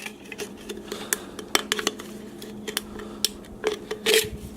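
A knife blade scraping and shaving back the top rim of a metal can, done with a dull knife while building a can stove: irregular metallic scrapes and sharp ticks at close range, with a louder grinding burst near the end.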